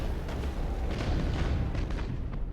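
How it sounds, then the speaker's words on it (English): Torpedo hits striking an enemy ship in Battlefleet Gothic Armada, heard as a continuous rumbling wash of muffled explosions and booms at moderate loudness with no clear pauses. "so that I can fire some torpedoes"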